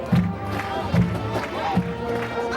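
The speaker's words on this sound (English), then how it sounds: "crowd here in Elba is very supportive of their football team and will gladly cheer them on" A homecoming football crowd in Elba roars and cheers from the stands, a broad distant wash of voices with a few louder swells over a steady hum.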